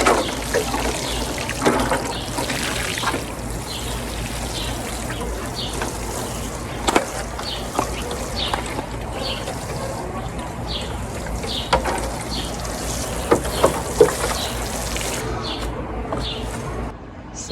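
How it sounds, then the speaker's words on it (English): Newly planted bok choy in an outdoor garden bed being watered in hot weather: a continuous soft spray and trickle of water on soil and leaves, with occasional light taps and faint birds in the background. "So we'll water these in before I walk away"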